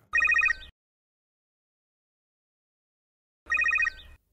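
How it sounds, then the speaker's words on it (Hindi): A telephone bell rings in two short electronic trills, a few seconds apart, with silence between them; clear and fairly close, with no talk. "ऐसे में एक फोन आया"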